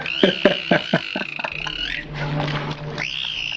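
Foxes give high, wavering calls broken into quick barking pulses that sound like laughter, a fast stuttering series followed by longer drawn-out cries, close and fairly loud, with faint talking in the background.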